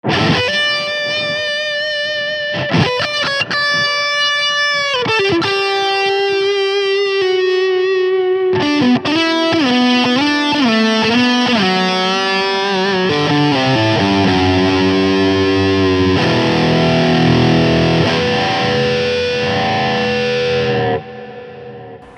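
A heavily distorted electric guitar, a Parker, plays a sustained lead line with bends and held notes, loud and saturated with added reverb and delay, no voices.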